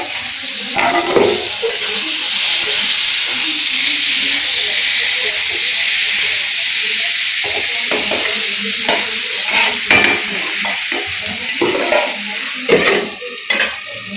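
Pumpkin pieces sizzle and hiss in a hot pan in a Bengali home kitchen, with a steady loud fry broken by repeated scraping stirs in the second half.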